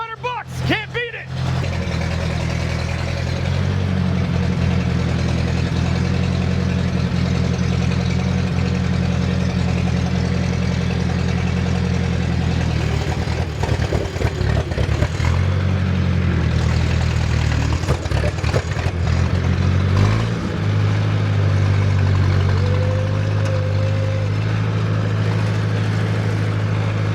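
An old Ford car engine idling nearby, a steady low rumble with a rough, uneven rattle that shifts partway through as the choke and fuel are adjusted.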